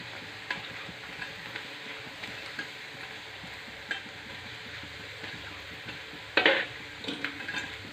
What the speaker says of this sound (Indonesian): sekarang saya lagi goreng rengginang nih untuk cemilan di rumah